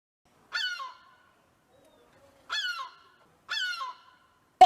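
A seagull at the beach gives three loud, harsh calls spaced a couple of seconds apart, each a short rasping squawk, with quiet gaps between them and a sharp knock at the very end.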